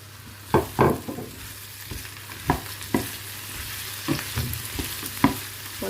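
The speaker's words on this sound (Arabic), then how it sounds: "ونحطوه يطيب هكا يتقلى شوية الفلفل" Colored bell peppers frying in a pan with onion, garlic and carrot, under a steady sizzle broken by sharp utensil scrapes and taps at irregular intervals, close up and without speech.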